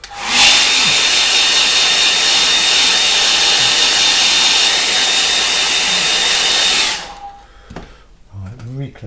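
A hair dryer blows steadily and loudly on a line-and-wash watercolour painting of a rural scene for about seven seconds, then clicks off, leaving faint handling noises.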